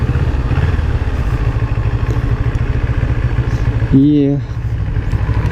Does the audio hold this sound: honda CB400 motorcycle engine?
yes